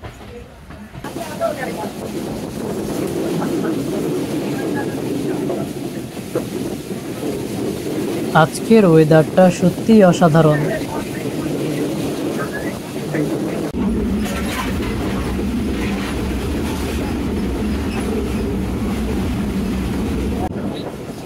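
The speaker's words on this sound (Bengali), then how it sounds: "আন্তনগর বাংলাবান্ধা এক্সপ্রেস ছেড়ে গেল রানীনগর রেলওয়ে স্টেশন থেকে।" The intercity Banglabandha Express leaves Raninagar railway station, heard as a continuous close rumble of rolling carriages with a brief rattling burst midway. A person talks over the noise.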